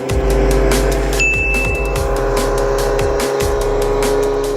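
A race car sound effect from an electric-vehicle running-cost calculator animation: loud engine revving with repeated rising gear-shift sweeps, plus a brief high ding, close and continuous with no talk.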